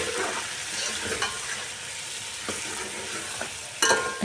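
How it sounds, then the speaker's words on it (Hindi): Chicken frying in a pan with tomato, green chili, ground garlic and ginger and spices, a continuous close sizzle with scraping stir strokes and occasional clinks, without talk. "अच्छे से भुनाई करें"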